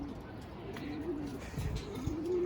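Pigeons at a home breeding loft coo in low, rounded bursts, close by and fairly steady across a short stretch, with faint background rustle and no talking.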